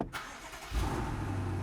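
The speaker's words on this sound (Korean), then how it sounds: "이 실내에 들어가서 시동을 한번 걸어보도록 할게요." A BMW 850i V8 with a tuned variable exhaust fires up: a brief starter crank, then the engine catches with a deep rumble and settles into a steady idle.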